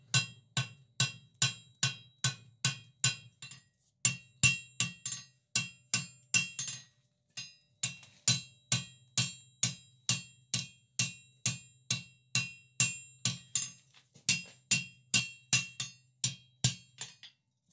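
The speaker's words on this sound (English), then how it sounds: "Bit of a lighter hammer as well, so I can be more accurate." Steady rhythmic blows from a light hammer forging hot steel for flat bit tongs ring out, about two per second, with brief pauses between runs; crisp, bright strikes with no talking.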